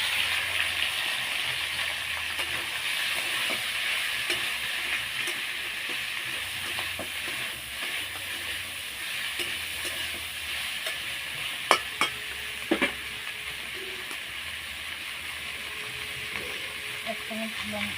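Panch phoron and cumin seeds frying in hot oil, a steady close sizzling hiss throughout with occasional sharp clicks and pops from the pan.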